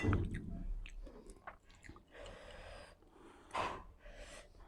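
Close, wet chewing of spicy khanom jeen rice noodles, with sharp breaths and sniffs between mouthfuls, no talking.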